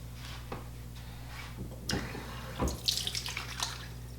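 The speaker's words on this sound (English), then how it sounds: "And then I add just a little bit of water by wetting my hands" Tap water runs briefly into a bathroom sink to wet hands during a morning skincare cleanse, a soft splashing stream that swells near the end over low room hum.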